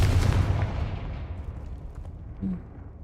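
A Confringo blasting spell goes off in the video game Hogwarts Legacy with a booming explosion that rumbles and then fades away, followed by a brief low thud.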